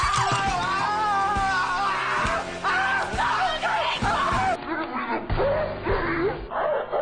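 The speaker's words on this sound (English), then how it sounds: "Screams like a banshee for absolutely no reason." In a film, a woman screams loudly and continuously, her shrill, wavering voice sustained at high volume for several seconds with only brief breaks.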